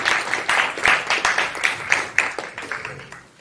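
An audience at a short film festival claps in a brief, moderately sized round of applause, uneven bursts that swell and then fade toward the end.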